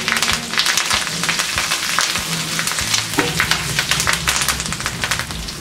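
Ginger garlic paste and curry leaves fry in a hot pan, giving a steady, close sizzle with dense crackling and spitting pops throughout.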